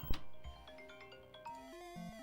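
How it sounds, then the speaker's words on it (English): A phone ringtone plays for an incoming call during an outdoor walkathon, a short melodic sequence of stepped electronic tones that rises and shifts pitch, moderately quiet and heard alone with no talking. "Well, I'm getting a phone call."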